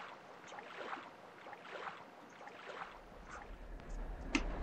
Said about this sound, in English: I'll show you once I get them in the boat and I start rowing